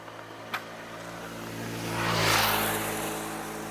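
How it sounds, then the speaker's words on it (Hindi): A motorcycle engine runs after being started, a low, steady idle that swells into a brief rev and then settles back, heard close by with no talking. "आप आवाज़ समझ सकते हैं कि हमारी गाड़ी अब पूरी तरीके से चालू हो गई है"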